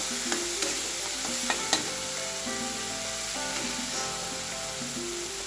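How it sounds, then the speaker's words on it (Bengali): Poppy seed paste is stirred as it fries in a pot for a Bengali pomfret fish dish. A spoon scrapes in repeated strokes over a constant close sizzle, with a few sharp clinks early on and no voices. "পোস্তটাকে একটু নেড়ে নেব"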